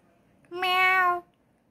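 A single drawn-out cat meow, clear and fairly close, with quiet surroundings before and after.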